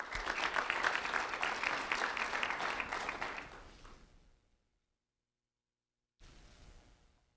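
An audience at a school recognition ceremony breaks into loud, sustained clapping that fades out after about four seconds, followed by silence and then a brief renewed burst of applause.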